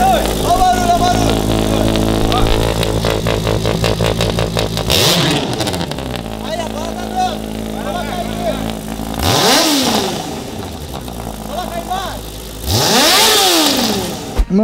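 Honda Hornet motorcycle engine idling loudly up close, then revved hard several times in rising and falling sweeps, with someone speaking Portuguese over it.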